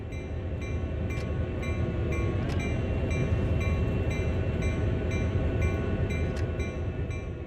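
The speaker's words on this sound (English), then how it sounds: "As you drive onto the turntable, take it very slowly so you don't overshoot." A CSX heavy haul locomotive eases slowly onto a turntable in the Train Sim World video game, a loud steady low engine rumble with occasional light metallic clicks over it.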